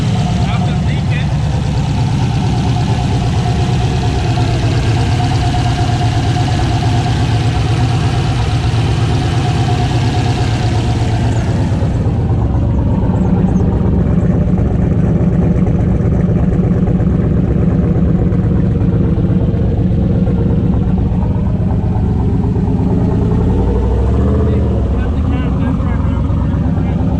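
A turbocharged 6.0 LS engine idles on its first start in a steady, loud, lumpy drone, with a brief rev-like swell near the end.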